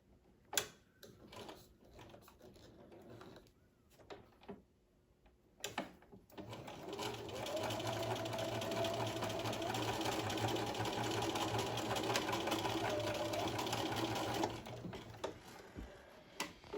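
A sewing machine stitches a V yoke seam in a steady, close, continuous run of about eight seconds, with a low mechanical hum under the rapid needle clatter, after a few scattered handling clicks and before stopping.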